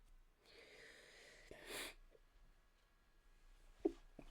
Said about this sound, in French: Ah, décidément, j'éternue.